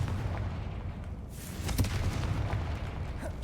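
A Confringo blasting spell in Hogwarts Legacy goes off as a booming explosion with a sharp crack midway, over a dense, rumbling game soundscape.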